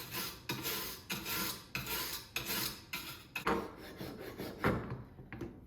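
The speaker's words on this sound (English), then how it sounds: "Now we clean with the stainless steel wire brush." Stainless steel wire brush scrubbing aluminum on an off-road jack mount, a series of rhythmic rasping back-and-forth strokes, close and fairly loud, pausing briefly between passes.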